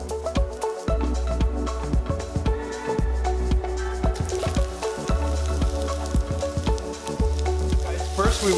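Whole mushrooms stir-fry in a hot pan, giving a continuous crackling sizzle with regular knocks and scrapes from the spatula, loud and close, a rhythmic clatter running throughout.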